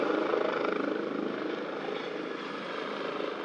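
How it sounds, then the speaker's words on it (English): A helicopter passes overhead near Dartmouth, heard from a yacht's deck as a loud, steady rotor thrum with a rapid chopping pulse that holds level throughout, with no voices. "We thought that sounds like a helicopter."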